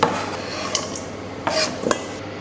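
Finely sliced vegetables scraped off a chopping board into a bowl, a few quick scraping swipes and light clatters against the board and bowl, close and clear with no talking.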